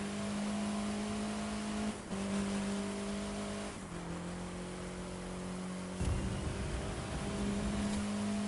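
Car engine droning at steady revs while racing in The Crew 2, pitch dropping and climbing with several gear shifts, fairly quiet and without talk.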